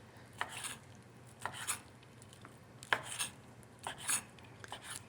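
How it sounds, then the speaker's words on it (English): Knife slicing raw chicken into small cubes on a cutting board, quiet, soft repeated cuts spaced about a second apart, close by, with no talking. "I'm gonna cut up the chicken right here into little cubes"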